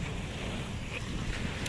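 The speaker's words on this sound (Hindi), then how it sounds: "पानी की आवाज़ है" Sea waves wash along Kite Beach in Dubai, a short burst of broad surf roar mixed with heavy wind buffeting the microphone, fairly loud and steady with no voices.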